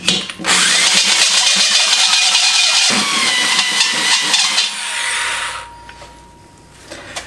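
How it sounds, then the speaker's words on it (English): A power drill bores large holes into the steel wall of a propane tank, giving a loud, steady grinding whine with a high metallic screech that cuts out abruptly near the end. "cutting such big holes is gonna take a little bit"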